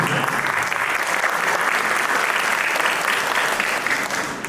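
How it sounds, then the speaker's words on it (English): An audience at a music night applauds Kiran and the band, a dense, sustained roar of many clapping hands, loud and even before tapering at the end. "Applause is mine too"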